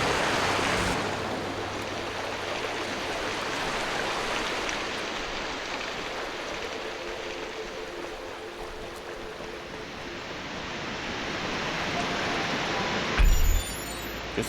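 A waterfall rushes in The Talos Principle, a broad, continuous roar of falling water that stays loud and even throughout, with no talking.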